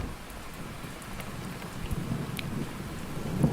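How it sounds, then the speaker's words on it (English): Steady rain patters on a surface with a low rumble of thunder beneath it, a continuous storm ambience in an audio story, with no voices. "came the thunder's loud groans, and the raindrops wailed and bemoaned Cyrus Jones"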